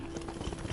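Horse hooves clip-clop in a quick, uneven rhythm in the video game Skyrim on PS5, a short soft burst of steps in the background.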